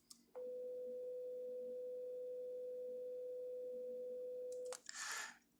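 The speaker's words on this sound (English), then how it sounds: "If I now have a beat frequency of 1, you might hear the sound rise and fall once per second." A pure electronic test tone, used to demonstrate beat frequency, sounds for about four seconds at a fairly even level, then cuts off into a brief noisy burst.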